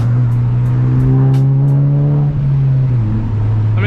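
An E85-tuned 10th-generation Honda Civic Si accelerates hard, its engine note loud and close from inside the car, a strong droning tone that climbs, dips at an upshift and carries on, with no talking.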